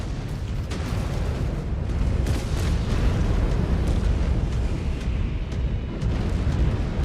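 A missile explodes in the mech combat video game Mechwarrior 5: Clans, giving a loud, sustained booming rumble that rolls on for several seconds with scattered crackling bursts and no voices.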